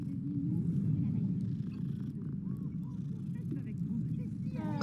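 A cat in Hogwarts Legacy purrs steadily while being petted, a continuous low rumbling purr held throughout at close range with faint background game sounds.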